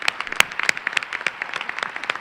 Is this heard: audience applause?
yes